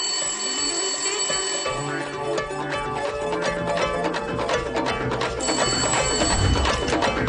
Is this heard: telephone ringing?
yes